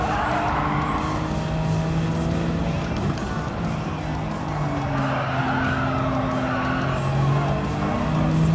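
A race car in Gran Turismo 7 roars continuously with high engine whine, shifting revs and squealing tyres, loud and close throughout, no talk over it.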